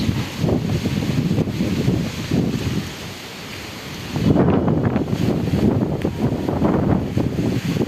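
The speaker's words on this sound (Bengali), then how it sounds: "এত পরিমাণ বাতাস" Strong storm wind in an open village area, gusting hard against the microphone in loud roaring bursts, dropping briefly mid-way before surging back even stronger.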